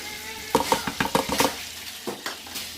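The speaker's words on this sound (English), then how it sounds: "It says here to throw in half a cup of all-purpose flour." Half a cup of all-purpose flour whisked into two tablespoons of melted butter in a pan over medium-high heat, a quick run of sharp metallic whisk clatters followed by a few slower scrapes over a soft sizzle.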